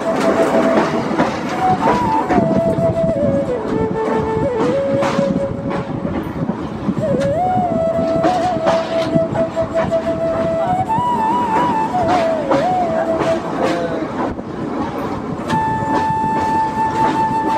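A passenger train runs steadily along rails on a trip near the Teesta river, with a continuous loud rumble and rattle, faint tonal whines and a few brief voices over it.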